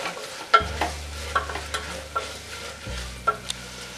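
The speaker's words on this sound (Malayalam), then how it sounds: "നന്നായിട്ടൊന്ന് മിക്സ് ചെയ്യാം." Onions frying with ginger garlic paste in a pan for Kerala-style beef roast, stirred with a spoon: repeated scraping strokes and soft clinks over a low steady sizzle, close and moderately loud with no talking.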